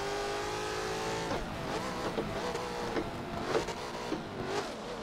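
Race car engine in Forza 7 revs hard through the gears, a loud buzzing drone that climbs and drops with each shift, punctuated by brief bursts and pops, continuous without speech.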